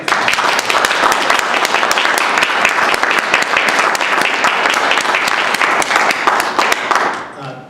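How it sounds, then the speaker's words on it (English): A full audience applauds a trio of readers at a poetry reading, steady dense clapping that holds loud for about seven seconds and then quickly tapers off. "give them a round of applause"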